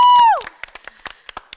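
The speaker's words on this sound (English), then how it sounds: "Let's give them a round of applause." Audience applause at an evening outdoor Romeo & Juliet performance hosted by Fairfield Parks and Rec in Ohio, coming in after a loud sustained tone and continuing as a thin, scattered patter of claps that is fairly close but sparse.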